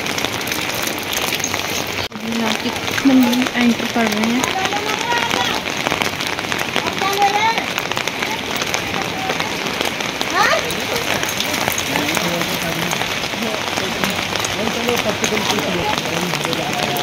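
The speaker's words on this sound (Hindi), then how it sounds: "यहाँ बारिश मिल रही है जिसकी वजह से ठंड हो रही है बहुत ज़्यादा" Steady rain falls at Badrinath in the Himalayas during a cold pilgrimage, a dense continuous patter heard up close while people talk over it.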